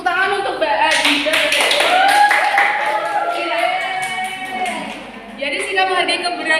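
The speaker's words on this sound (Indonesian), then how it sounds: "Tepuk tangan untuk Mbak Adinda." In a second-grade primary school classroom, a brief burst of hand clapping for a student sounds near and lively, mixed with a person talking over it.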